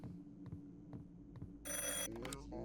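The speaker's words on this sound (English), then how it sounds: "Oh, the phone's ringing." An old-style telephone bell rings in the video game Repent, a bright electric trill bursting in after soft low throbbing tones, then repeating briefly.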